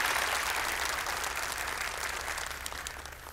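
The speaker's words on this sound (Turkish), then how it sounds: "Bir kez daha kendilerini alkışlıyoruz." Sustained audience applause at a Quran recitation competition, dense steady clapping from a full hall that fades gently toward the end, with no voices over it.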